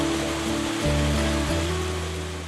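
Mountain stream in wooded hills running over rocks in small cascades, a continuous close rushing and splashing with a steady texture and a slight rise in level partway through.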